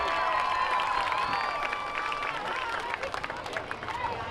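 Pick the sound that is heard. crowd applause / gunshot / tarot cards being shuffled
crowd applause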